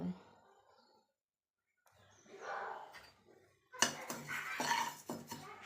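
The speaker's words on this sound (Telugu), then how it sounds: "పల్లీలను కూడా వేయించి పక్కన పెట్టుకోవాలి" Peanuts roasting in a pan for sesame-peanut laddus, with scraping and rattling as the nuts are stirred against the metal, quiet at first and then a louder, busier stretch of clinking near the end.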